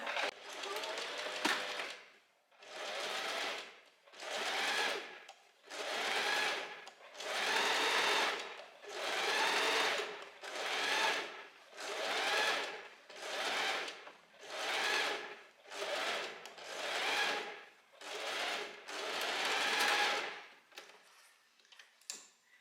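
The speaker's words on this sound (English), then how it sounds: "So while we sew, you just need to pull the back facing and the back pattern piece a little bit apart" A sewing machine stitches dress fabric in about a dozen bursts of steady whirring, each a second or two long and separated by short pauses, close and clear with no talking.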